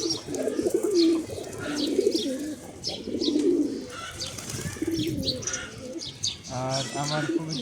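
Giribaz pigeons cooing steadily in soft, rolling phrases through most of the stretch, with a few brighter chirps, heard close with no talk over them.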